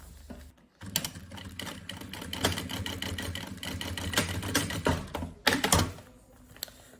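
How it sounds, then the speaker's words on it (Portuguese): A sewing machine stitches a seam on a rabbit-style backpack, a close, rapid mechanical chatter that starts after a short pause, runs steadily with slight speed changes, stops briefly, then resumes. "E vou fazer então agora aqui uma costura."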